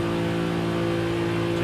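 A 2019 Nissan 370Z Nismo in Forza Horizon 5 drones at a steady high-speed pitch, its engine note constant and loud throughout with no distinct exhaust pops standing out.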